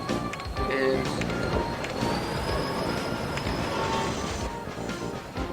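A train in the video game Chris Sawyer's Locomotion rolls along with rumbling wheels and a thin, rising squeal, loud and close, under a steady game soundscape.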